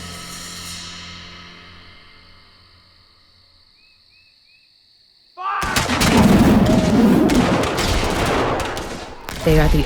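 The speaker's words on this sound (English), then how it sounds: "They are the opening shots of what will become the first epic battle of the Civil War." Battle of Shiloh reenactment gunfire and artillery: after a quiet stretch of fading tones, a sudden dense burst of loud overlapping musketry and cannon shots rolls on for several seconds.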